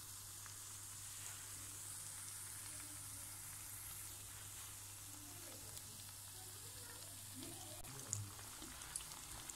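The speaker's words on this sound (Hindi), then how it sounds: "ये मीडियम आंच के ऊपर ही कितने ज़बरदस्त से क्रिस्पी क्रिस्पी से ये फ्राई हो रहे हैं" Potato garlic rings deep-fry in hot oil over medium heat, giving a steady, even crackling sizzle throughout, with a few louder pops near the end.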